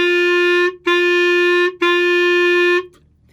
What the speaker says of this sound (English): So here's the first measure now of number 1 as quarter notes